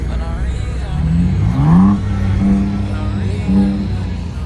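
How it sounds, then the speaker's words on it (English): Ford Mustang truck at an outdoor car show in India, its engine rumbling nearby and rising in two clear revs, one building near the middle and a shorter one later, over constant low drone and crowd background. "This is a Mustang truck."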